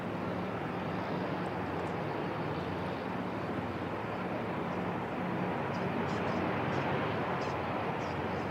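A propeller aircraft taxis at Christchurch Airport, its engines giving a steady broad roar that holds at a moderate distance for the whole stretch, with no clear change in pitch.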